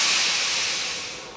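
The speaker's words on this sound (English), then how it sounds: "Engines ran on a mysterious new element the Victorians had discovered called steam." Steam locomotive hissing out steam in a steady, loud, broad rush that fades slightly before cutting off.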